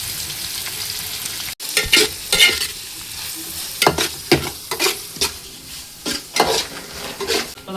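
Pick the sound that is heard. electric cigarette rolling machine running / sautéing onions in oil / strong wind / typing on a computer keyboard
sautéing onions in oil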